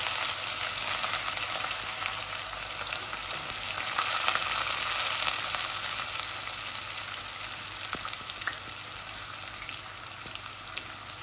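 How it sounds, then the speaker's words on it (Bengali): Onion fries in a pan for a chicken and potato curry, producing a constant dense sizzle with faint crackles and light stirring over eleven seconds, no speech. "এখন আমি পেঁয়াজ দিলাইয়া"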